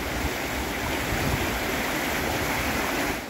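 A river rushing by in a steady, dense wash of water noise, loud and close throughout with no voices.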